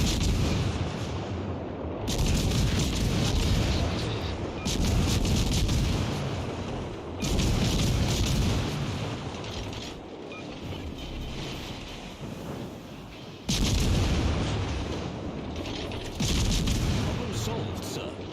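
Heavy naval gunfire in the World of Warships Legends video game, loud booming salvos in several broad bursts over about eighteen seconds, with a voice talking in the background.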